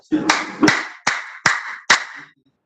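Rhythmic hand clapping for a traditional Rwandan dance, five sharp claps in a steady beat of about four per second-and-a-half, close and loud, ending in silence.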